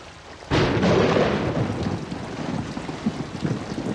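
Thunder rumbles through a storm in the Outlast horror game, a loud broadband crack at about half a second that rolls on as a sustained, slowly fading rumble with no talk over it.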